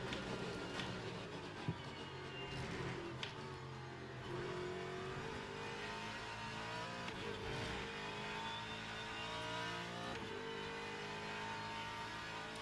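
A racing engine from an Isotta Fraschini race car in Le Mans Ultimate holds a steady droning whine, its pitch rising and shifting through gear changes, with a few faint clicks and no talking.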